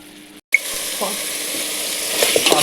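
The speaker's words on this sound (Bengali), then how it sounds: "একটুখানি হালকা ভাজা ভাজা হয়ে গেলেই হয়ে যাবে আমার এই চিকেন স্টু" Chicken stew pieces sizzle steadily in a pan while being stirred, with a brief silence near the start and a few scraping clinks toward the end.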